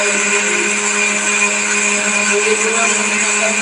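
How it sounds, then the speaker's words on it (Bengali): A mixer grinder whirs loudly and evenly while grinding green chillies in a home kitchen, a constant high motor whine with no pauses. "লঙ্কাটা কাঁচা লঙ্কাটা বাটছে।"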